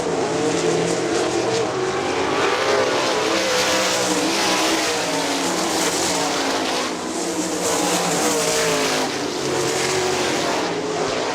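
Sprint cars roar around Kokomo Speedway in a GLOSS sprint race, a dense, continuous loud engine drone with shifting pitch as cars pass, no voices over it.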